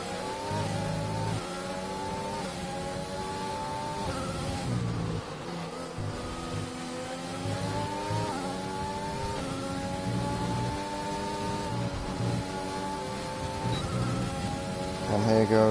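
Mercedes Formula 1 car in the F1 2019 racing game at pre-season in Spain, its engine whining steadily at high revs through a fast lap, with pitch rising and dipping through shifts, running continuously under ongoing commentary.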